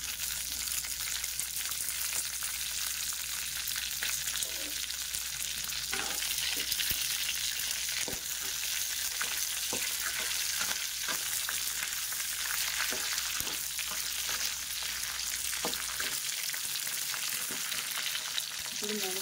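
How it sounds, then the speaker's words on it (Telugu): Dried red chilies fry in a pan for Andhra-style gongura pickle, giving a continuous close sizzle and hiss with scattered light scrapes and taps from stirring throughout. "ఎండుమిర్చి కొద్దిగా ఫ్రై అవ్వాలి."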